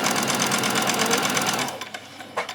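A sewing machine stitches a child's dress in a fast continuous mechanical whir, loud and close, then stops, leaving a few small clicks and a brief thump near the end.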